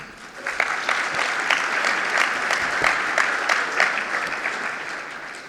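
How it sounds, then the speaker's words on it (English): A conference audience at an AI and automation event gives a round of applause, dense, loud clapping close by that runs steadily throughout with slight surges. "So let's give them a round of applause for that."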